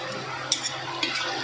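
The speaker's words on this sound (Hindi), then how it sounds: "हम इसमें अदरक लहसुन का पेस्ट और मसाले डालकर भूनेंगे" Soft sizzling of ginger-garlic paste and spices frying over golden onions in a pan, with a few scraping clinks of a spoon stirring, quiet and close.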